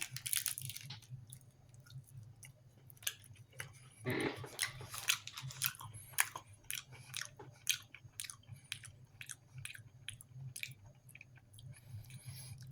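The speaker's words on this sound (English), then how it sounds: "Try a little bite of a beef stick here." Someone bites off and chews a piece of beef stick close to the mic, with a wet crunch at the first bite and then a steady run of soft squishy chewing sounds, no talking.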